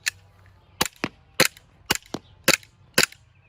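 A Kizuna Works KW-15K airsoft gun fires BBs in sharp, close, snappy pops. About ten shots come in short pairs and singles at an uneven rhythm, with quiet gaps between them.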